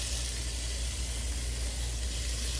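Onions sauteing in a pan with cinnamon for a Sri Lankan style tinned jack mackerel fish curry, a steady, even sizzle throughout with no talk.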